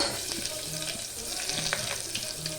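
Red onions fry in hot oil with a constant close sizzle and a few light stirring knocks, steady and fairly loud throughout.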